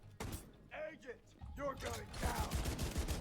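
Slow-firing auto rifle in The Division 2, spaced single gunshots with mechanical clatter, fairly close and loud, overlapped by someone talking.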